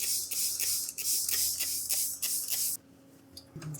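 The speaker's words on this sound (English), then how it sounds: "I'm spraying this dome with a spritz bottle." Repeated sharp hissing bursts from a spray bottle misting a sourdough loaf before baking, about eight quick spritzes in an uneven rhythm, close up, then stopping near the end.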